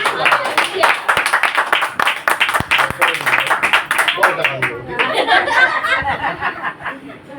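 A crowd claps steadily and loudly, with chuckles and overlapping voices mixed in; the clapping thins toward the end.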